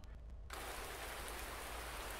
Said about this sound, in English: and it went from snow to rain.